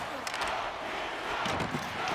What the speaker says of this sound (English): the Kings now have a Go Kings Go chant from the crowd